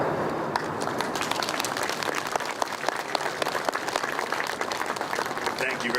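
An outdoor crowd applauds steadily at a monument unveiling ceremony, the clapping dense and sustained at moderate distance for several seconds without a break.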